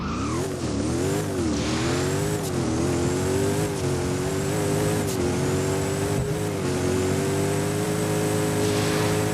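DeVal 16 car in the Roblox game Driving Empire accelerating hard, the engine note climbing steadily through several gear shifts with a sustained high whine, loud and continuous, no speech.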